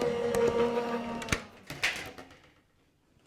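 Stacked die-cutting plates fed through a Gemini die cutting machine, with a steady mechanical whirring hum and a couple of sharp clunks as the plates pass, then fading to near silence.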